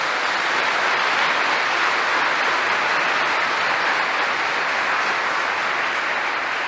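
A church congregation applauds continuously, a dense even wash of many hands clapping from start to finish, fairly loud and with no voice over it.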